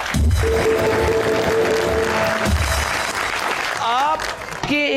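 A talk-show studio audience breaks into applause, clapping mixed with voices and music, ending with a short burst of sound effects.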